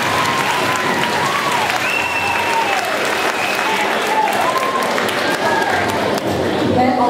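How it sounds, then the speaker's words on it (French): Sustained, dense applause from an audience at a school event, loud and continuous throughout, with voices calling out over the clapping. "vous méritez une bonne main d'applaudissement"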